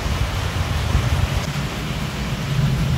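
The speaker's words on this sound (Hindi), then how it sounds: "आजकल अचानक बारिश आ जाती है, हवा भी चल रही है।" Wind gusts during evening rain in Assam, a broad steady rushing roar with low buffeting, constant and fairly loud, no speech.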